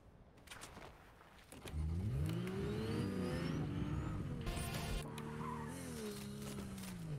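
Video game car engine driving loud and steady, rising in pitch as it accelerates, with a squealing skid partway through and no talking.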